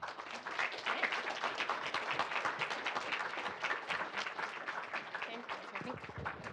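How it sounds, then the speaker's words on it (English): Sustained audience applause for the last two speakers at a university ecology seminar, dense steady clapping with crowd noise throughout, fading slightly near the end. "Let's give our last two speakers another round of applause."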